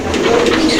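A pigeon coos close by in a short, steady, loud call with no one talking over it.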